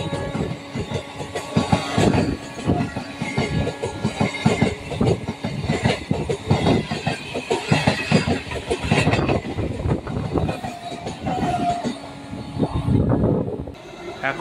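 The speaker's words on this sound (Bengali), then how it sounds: "এখন সামনে দিয়ে ছুটে আসছে সিউড়ি মেমো।" The Suri MEMU passenger train passes close by, a loud rolling rumble with rhythmic clickety-clack of wheels over rail joints that swells and stays strong for the whole pass.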